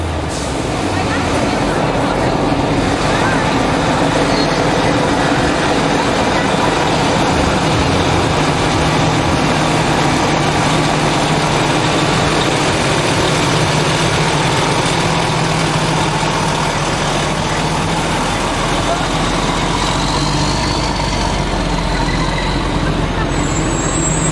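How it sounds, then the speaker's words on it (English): Heavy fire engine motors rumble loudly and continuously as the trucks roll past in a homecoming parade, with a brief rising whine near the end. "here come the various fire engines"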